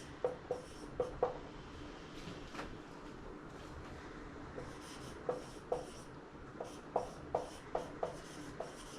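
Pen or pencil writing on paper close by, faint scratching strokes in short irregular bursts as numbers are jotted down, with no talking.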